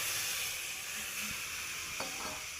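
Ghugni simmering in a pot just after water is poured in, a steady soft sizzle and hiss with a couple of faint clinks near the end.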